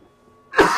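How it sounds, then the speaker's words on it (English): A single sudden harsh cough bursts out close to the microphone after a near-silent moment. "another cough, god damn it"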